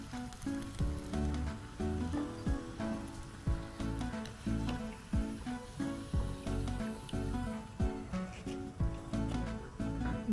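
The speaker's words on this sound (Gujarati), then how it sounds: "આવી રીતે ઉપર તેલ નાખતા જવાનું છે અને બદામી રંગના થાય ત્યાં સુધી આપણે એને તળી લઈશું" Bread pakoda frying in hot oil, with oil being spooned over the top, gives a steady crackling sizzle that runs the whole time with small pops and bubbling, fairly close and alone.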